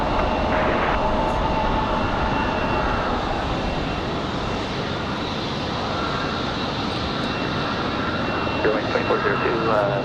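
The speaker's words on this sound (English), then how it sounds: "That one coming in from LaGuardia, an A220 300." An Airbus A220-300 jet on final approach at Raleigh-Durham airport roars steadily and loudly in windy conditions, a broad continuous engine rumble with a faint whine that holds throughout.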